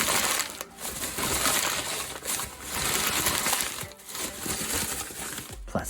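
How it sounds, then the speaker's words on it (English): Paper being crumpled and crinkled by hand to form a DIY rock structure for a mermaid garden craft, close and continuous rustling with brief pauses between bursts of crackling. "Plus, crinkly paper is a good sound."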